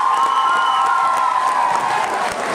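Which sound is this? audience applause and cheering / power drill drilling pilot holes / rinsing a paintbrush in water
audience applause and cheering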